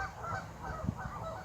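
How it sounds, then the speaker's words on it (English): Geese honk faintly in the distance in a park in Stettler, a few soft calls over steady outdoor background noise. "I hear the kind of geese in the background."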